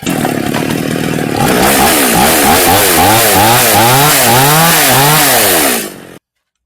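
A chainsaw is pulled into life and runs loudly close by, its engine rising and dipping in repeated revving swells before cutting off abruptly; the saw is said to lack power and stall when cutting wood.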